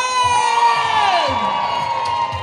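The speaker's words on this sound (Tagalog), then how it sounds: "Palakpakan naman natin na may kasamang hiyawan!" Crowd at a Laguna event cheering, whooping and shouting with children's voices for a governor, loud and continuous, with a high tonal whistle or feedback sliding downward over the noise.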